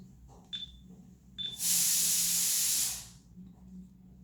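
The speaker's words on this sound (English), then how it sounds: "That was the cooker of my house." A home cooker vents a loud, steady rush of steam hiss that starts abruptly, holds for about a second and a half, then tapers off, with faint room noise and brief high tones before it.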